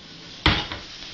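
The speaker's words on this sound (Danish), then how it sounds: "Finder et fad frem." A serving dish pulled out in a home kitchen gives one sharp clatter against pots and pans, followed by a smaller knock as it settles.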